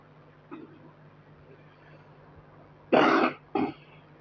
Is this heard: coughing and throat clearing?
yes